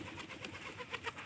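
Newly bought pigeons coo softly in a home pigeon loft, with a few faint, low, rounded calls repeating close by.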